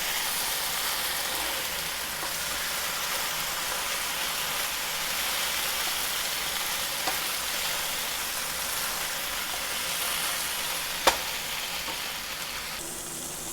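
Eggplant fries in a pan over medium-high heat, a steady dense sizzle and hiss, close and even, with a couple of faint clicks and no talk.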